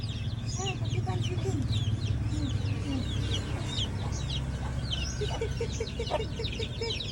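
Backyard chickens clucking in short bursts near and far, with scattered higher calls, over a steady low background hum.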